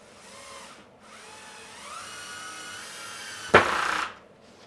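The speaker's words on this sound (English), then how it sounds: "A lot of screws to put in." A power drill drives screws into a wooden under-table-saw storage cabinet, a steady whirring run that rises into one loud, close burst of screw seating near the end before stopping.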